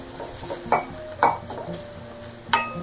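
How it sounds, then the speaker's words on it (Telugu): Onions and dry prawns are stir-fried in a pan over a soft, steady sizzle, with three sharp scrapes of a spatula against the pan at irregular intervals. "ఆ పచ్చివాసన పోయి ఆనియన్స్ మంచిగా కొంచెం బ్రౌన్ కలర్ వచ్చేంత వరకు ఫ్రై చేసుకుందాము"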